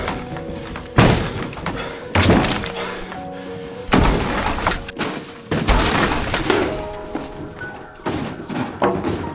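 Repeated heavy thuds and crashing impacts, each followed by crumbling debris, in a loud rhythmic series of about five blows.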